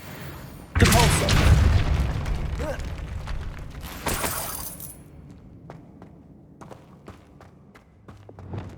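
A Depulso force spell cast in Hogwarts Legacy: a loud booming blast with a crashing, shattering burst, a second impact about three seconds later, then quieter scattered clicks and thuds.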